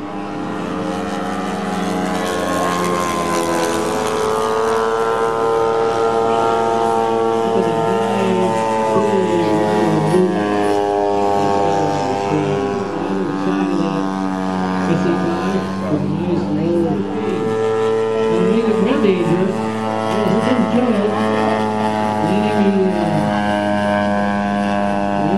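A Douglas A-1 Skyraider propeller aircraft at an airshow, its big radial engine droning steadily and loudly for the whole stretch with a rich, throbbing tone that swells and shifts slightly as it passes. Faint voices are mixed in.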